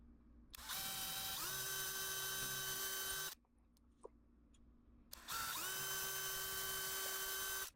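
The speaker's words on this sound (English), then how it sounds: "Let's get a drill. We'll drill that out and mount the mounting bracket to the deck." A power drill whirs loudly at close range while drilling into a deck, spinning up, running steadily for a few seconds, pausing briefly, then starting up again.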